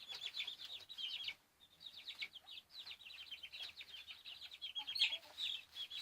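Meat chickens clucking and chirping together in a winter coop, a steady busy chatter of short calls with a brief lull partway through, no voices.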